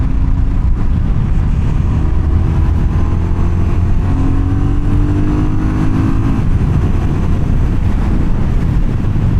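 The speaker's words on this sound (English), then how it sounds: "Really grunty down low. That single cylinder engine, not single engine, it's one engine." A BSA Goldstar 650 single-cylinder motorcycle engine thrums steadily on the road, with a low, loud drone and a brief rise in pitch as it pulls, all under heavy wind rush and with no talk.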